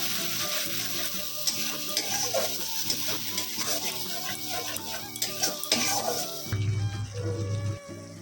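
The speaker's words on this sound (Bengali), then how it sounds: "পেঁয়াজটাকে কিন্তু খুব ভালো করে ভেজে নিতে হবে লাল করে" Loud frying of onion paste in a pan with repeated scraping and stirring strokes, sizzling throughout, then a low steady hum takes over near the end.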